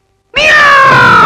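A black cat lets out a single loud, drawn-out meow that starts abruptly after a brief silence, in the manner of a horror film effect.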